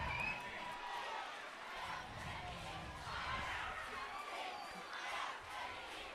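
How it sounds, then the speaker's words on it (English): Home crowd at a high school football game between McMinnville and Sandy cheers and claps after a touchdown run, a steady broad roar of voices with shouts rising and falling throughout, fairly distant. "Crowd here very happy as they're on their hands and are on their feet and clapping their hands"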